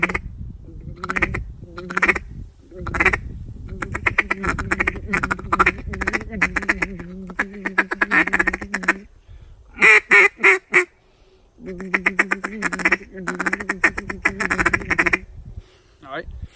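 A duck call blows a rolling feed call, a fast random run of quacks and chatter meant to imitate several feeding ducks, loud and close in bursts separated by short pauses.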